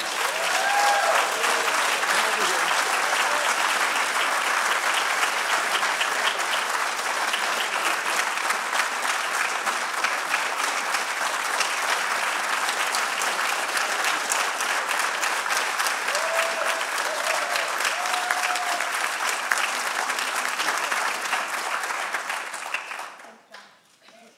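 An audience at a live awards event applauds an award recipient in a long, steady, even wash of clapping that holds for over twenty seconds before fading out at the end.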